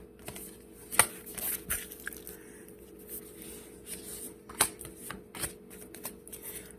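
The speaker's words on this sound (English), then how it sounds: "the cards I'm looking for has got to be all the way at the bottom of the deck" Cards being flipped through a deck in quiet, close-up, soft papery riffles and shuffling with a few sharper clicks and snaps, faint and intermittent with no voices.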